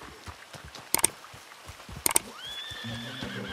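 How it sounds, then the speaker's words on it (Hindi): Horse neighing in Red Dead Redemption 2, a rising whinny late in the clip after two sharp clattering bursts and soft hoof-like thuds, fairly close and with no talk over it. "इसका घोड़ा भी बहुत बोल रहा है।"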